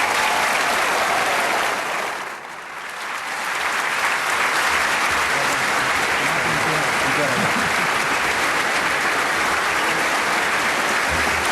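An audience welcomes Governor Chris Christie at the Reagan Library with sustained, loud applause from a large crowd, a dense roar of clapping that dips briefly before swelling and holding steady for over ten seconds.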